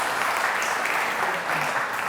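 Sustained audience applause at the Lichfield Live community awards ceremony, a dense, steady clapping from a crowd that fills the whole stretch without pause.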